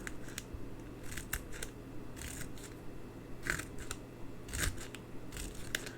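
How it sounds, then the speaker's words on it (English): Quiet, crisp snips of small scissors cutting small paper strips for a handmade card repeat irregularly over a faint steady hum, each cut short and close. "I'm going to get my little scissors"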